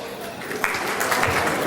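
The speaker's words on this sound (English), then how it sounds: "A round of applause as we serve dessert." Applause breaks out at a professional services awards dinner as dessert is served, a broad wash of clapping that swells partway through and carries on steadily under a murmur of voices.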